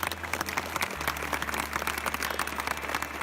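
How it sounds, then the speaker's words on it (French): Steady applause from an audience paying tribute to the late Helder Duarte, a dense unbroken patter of many hands clapping at moderate volume, with no voices over it. "Dans sa mémoire, je vous demanderai de l'applaudir pendant 1 minute"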